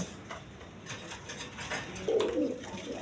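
Bombay pigeons in a loft coo in low, soft, repeated calls. One fuller coo stands out near the end over a faint background hum.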